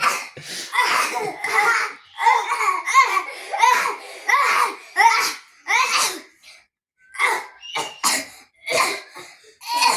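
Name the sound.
coughing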